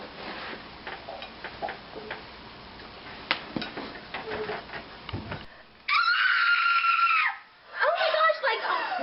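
A person screams in a group therapy scene, a sustained loud shriek that follows a stretch of people talking, pauses briefly, then resumes.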